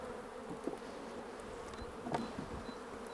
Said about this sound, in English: when you've got bees like this, it's always a pleasure to inspect them